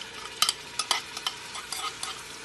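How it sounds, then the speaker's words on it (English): Curry spice mixture hitting hot oil for Guyanese chicken curry, a bright crackling sizzle with several sharp stirring scrapes and spatters in quick succession, close up and with no voices. "after the oil has been heated, I'm throwing this mixture into the oil"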